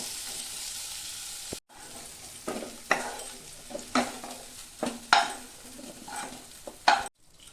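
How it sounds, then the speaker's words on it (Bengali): Sliced onion and capsicum fry in a pan for kadai paneer, soft sizzling punctuated by repeated distinct scrapes and clinks of a spatula against the metal, with a brief gap early on. "পেঁয়াজ ক্যাপসিকামটা আমার একটু ভাজা হয়ে গেছে, বেশি ভাজি নাই"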